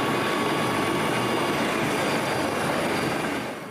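A loud, steady helicopter engine and rotor roar fills the air over Yanomami territory, constant and close throughout, easing slightly at the very end.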